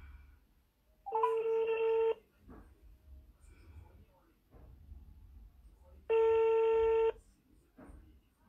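A phone call being placed on a mobile phone, with two long, evenly spaced ringback tones separated by a few seconds of quiet room sound and faint voices, heard up close.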